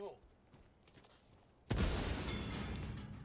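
A grenade blows apart a crate in a shooter game, a single sudden loud blast that rolls into sustained roaring debris and rumble, with quieter game noise and faint talk before it.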